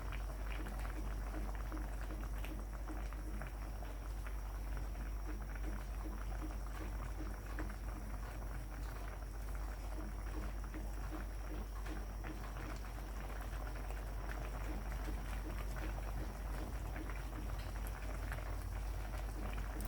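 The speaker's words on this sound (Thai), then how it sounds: "ช่วงนี้เป็นช่วงที่เราต้มหมูด้วยค่ะเด้อต้มหมูให้สุก" Pork skin and fat boiling in a pot of water for Thai crispy pork rinds, a steady dense bubbling and rolling boil that continues close and fairly loud for the whole stretch with no talking.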